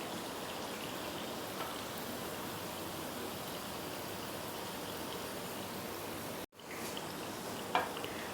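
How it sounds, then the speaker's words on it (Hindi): Jalebi deep-fries in hot oil until crisp, giving a steady, soft, even sizzle throughout with a short break and a faint clink near the end, and no voices. "इसको क्रिस्पी होने तक अच्छे से पहले तल लेंगे"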